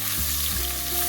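Crushed onion and garlic, along with browned onion, fry in a pan for a baby jackfruit thoran, giving a steady, loud, close sizzle with low frying crackle throughout.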